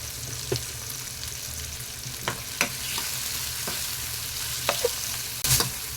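Salted tomatoes fry in a pan for an egg masala, a steady sizzle punctuated by repeated spoon scrapes and taps against the pan, with a sharper clatter near the end.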